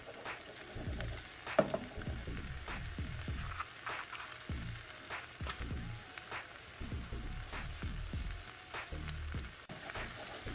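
Egg being scrambled in a Caraway non-stick pan into hot kimchi fried rice with shrimp and spam, giving a steady close sizzle broken by repeated scraping and stirring strokes and one sharp clack.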